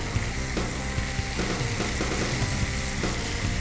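Garlic sizzles in a frying pan while roasted bone marrow with tomato vinaigrette is being made, a loud, close, steady crackle with light clinks from stirring and no talking.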